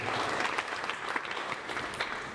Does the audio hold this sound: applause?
yes